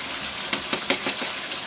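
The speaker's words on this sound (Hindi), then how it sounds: "गर्म पानी में उबाल देते हैं इसको।" Hot water gushes and splashes over cauliflower pieces in a cooking pot, a steady watery rush with several brief splashy bursts in the middle.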